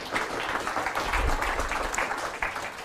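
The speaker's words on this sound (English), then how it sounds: "Let's give him another round of applause" Steady applause from a crowd at a tech conference talk, a dense patter of many hands clapping throughout, moderately loud and without pauses.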